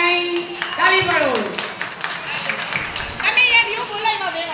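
An audience claps at a trailer screening, a burst of hand claps rising and falling over several seconds, mixed with loud talking and children's voices close by.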